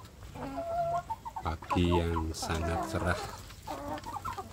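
Free-range chicks and hens cluck and cheep in a coop on a bright morning, giving repeated short calls close by, partly under someone speaking.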